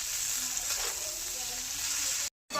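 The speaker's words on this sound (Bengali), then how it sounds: "নাড়িয়ে চাড়িয়ে মিশিয়ে নেব।" Atta pasta stirred into egg, potato and onion frying in oil, a constant close sizzle with light stirring movements, cutting briefly to silence just before the end.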